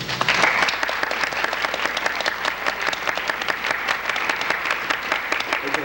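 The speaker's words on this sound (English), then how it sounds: "I know you're mainly applauding because I got you out of class" A high school audience applauds a speaker introduced at a school assembly, steady dense clapping filling the room throughout, loud and continuous with no voices over it.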